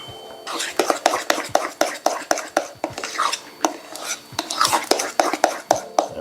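A spoon or whisk beats through homemade buttermilk pancake batter with freshly added oil in a bowl, giving quick, rhythmic clacking strokes against the bowl with wet slaps between, close and fairly loud, repeating steadily throughout with no one talking.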